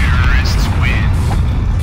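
A bomb explosion in the video game CS:GO produces a loud, dense low boom with a rumbling, noisy tail lasting under two seconds, heard up close.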